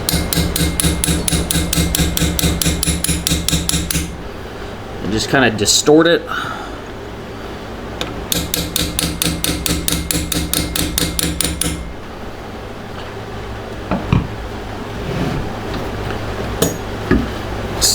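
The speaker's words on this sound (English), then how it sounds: "I'm gonna take a chisel and a hammer." A hammer drives a chisel against a motorcycle sprocket shaft seal on a Shovelhead, giving rapid, loud metallic strikes in bursts. Sharp single knocks sit between them, and a person talks briefly.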